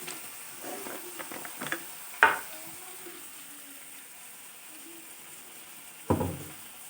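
Ginger-cumin paste with turmeric and chili powder being stirred into water in a bowl: faint, soft scraping and swishing, with two sharper knocks of the spoon against the bowl.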